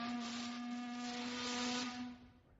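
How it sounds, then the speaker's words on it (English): Steamer whistle screeching in one long, loud, steady tone with a hissing edge, holding for about two seconds before cutting off and fading, with no voices. "The steamer whistle screeched"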